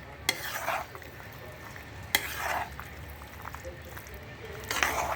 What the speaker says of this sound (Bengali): এ পর্যায়ে আমি ভালো করে নাড়িয়ে চাড়িয়ে মিশিয়ে দেবো